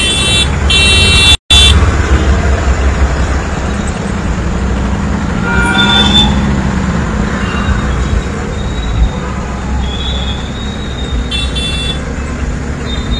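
Road traffic on Airport Road in Jammu gives a continuous roar of engines and tyres, with a few horn toots and a brief cutout near the start, no voices.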